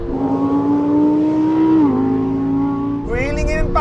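A Lamborghini Huracan Performante and a Porsche 911 Turbo S race on a runway, with a loud, close engine drone holding steady, a brief dip in pitch like a gearshift, then a sharper, higher revving surge.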